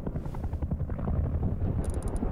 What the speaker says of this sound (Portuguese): Alguém tá destruindo o helicóptero, hein?